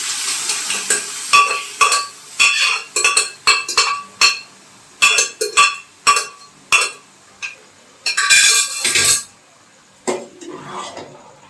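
Dal being stirred in a cooking pan after fried egg, with a run of quick scraping, clinking strokes of a utensil against the pan over a low sizzle, close and distinct, with pauses between bursts and no speech.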